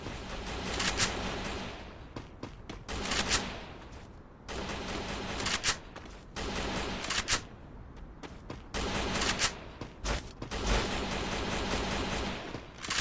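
Bursts of rapid gunfire from a shooter video game fight crackle in loud clusters, broken by short quieter gaps; several volleys overlap, with no talk over them.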